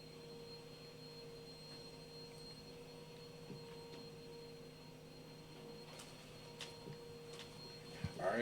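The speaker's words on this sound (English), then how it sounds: "apologies for the vacuum in the background" A vacuum cleaner runs steadily in the background, a faint, even hum with a few small clicks and knocks over it and no talking.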